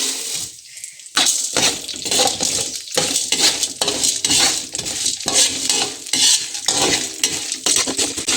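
Fenugreek, cumin, chana dal and urad dal hit hot oil for pineapple sambar, bursting into loud sizzling with sharp spatula scrapes and clinks against the pan, constant and close with no talk.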